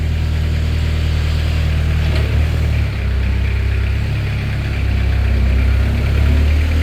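The diesel engine of a 2014 Moffett M55 truck-mounted piggyback forklift idling steadily, a loud, even, low rumble with a slight dip in level partway through.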